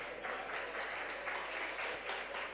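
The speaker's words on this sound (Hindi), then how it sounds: "ऐसी तालियां बजाने से काम नहीं होगा।" Clapping from an assembled crowd at a Mahavir Jayanti religious discourse, a soft, fairly distant wash of many hands pulsing in loose waves, continuous and fairly quiet throughout.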